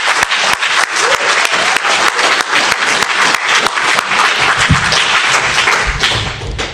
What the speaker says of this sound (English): I think we should just give a round of applause for the people that put on AnyCon, whether it's the crew or the organizers.